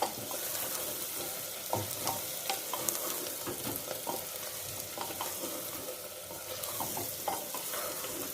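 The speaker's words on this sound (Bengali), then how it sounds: "লঙ্কাটা দিয়ে দিলাম বলে গরম মশলাটাও ভেজে নিচ্ছি, খুব ভালো সুগন্ধ হবে।" Garam masala and chilli fry in oil for Champaran-style mutton, a close, busy crackle and sizzle with frequent sharp pops and stirring scrapes, steady throughout.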